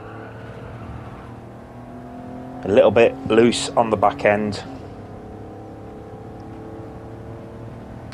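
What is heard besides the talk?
Maserati Merak car engine in video game Gran Turismo 7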